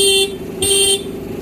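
Horn of a Scooty Pep scooter under wiring repair sounds in two short, loud electric honks, the second slightly longer, with a steady buzzer-like tone running underneath throughout.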